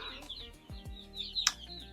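Soft chicken clucks and short chirpy calls from a few birds nearby, with low murmuring sounds in the background.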